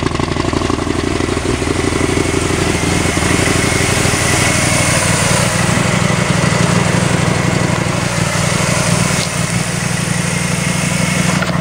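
A small engine with a trailing-coil fault runs steadily and loudly close by, a buzzy continuous drone with faint irregular pops, no talking.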